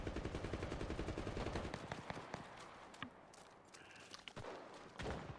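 Rapid bursts of gunfire from the World War II shooter Enlisted, including carbine shots, crackle densely and loudly for the first couple of seconds, then thin out into scattered single shots and thuds, with faint speech.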